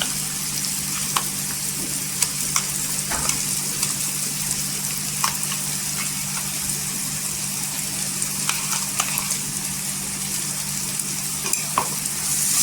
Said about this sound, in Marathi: हे वाटण आहे ना छान असं या तेलावर परतून घ्यायचे सुके मसाल्यामध्ये